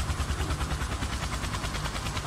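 Helicopter in a Roblox flight game, a steady rhythmic rotor chop with a low engine drone, loud and close and continuous throughout, with no voices.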